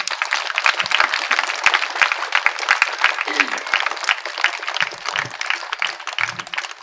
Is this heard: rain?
no